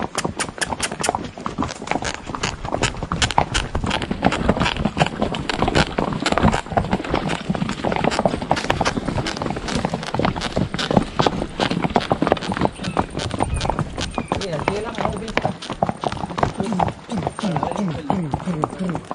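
Horse hooves clip-clop in a fast, steady rhythm close by on the way to a hacienda, a continuous run of sharp strikes with voices talking over them.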